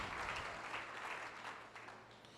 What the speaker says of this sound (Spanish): si le vas a dar ese aplauso, dáselo más fuerte al Señor